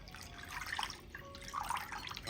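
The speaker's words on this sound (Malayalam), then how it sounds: "ഇനി കോൺഫ്ലോറിൻ്റെയും മുന്തിരി ജ്യൂസിൻ്റെയും മിക്സ് ഇതുപോലെ ഒന്ന് കലക്കിയതിന് ശേഷം ഇതിലേക്ക് ഒഴിച്ചു കൊടുക്കാം." A cornflour and grape juice mixture pours into a pan for a grape sweet, with soft, faint liquid trickling and dripping sounds over a short stretch.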